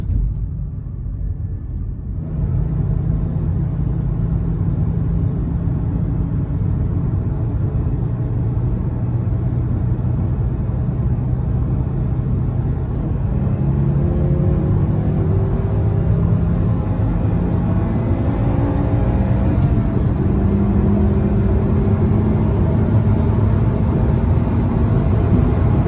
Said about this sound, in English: Let's do like a little on-ramp pull